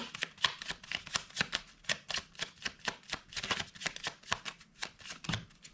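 Tarot cards being shuffled and drawn, a rapid run of crisp riffling flicks and soft slaps in an uneven rhythm, close and fairly quiet, with no voice over them.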